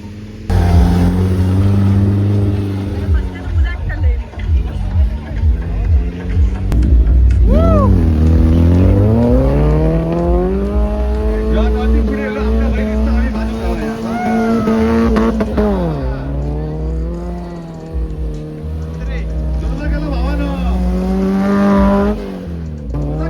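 A modified car engine roars and revs repeatedly at a car and bike show on a gymkhana ground in Sawantwadi, pitch climbing and falling in long sweeps, loud and close throughout.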